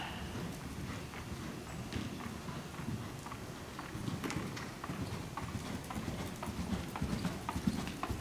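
Horse hooves clip-clopping on an arena surface as a rider canters around the long side during a riding clinic, a steady rhythmic beat of footfalls at moderate distance with no voices over it.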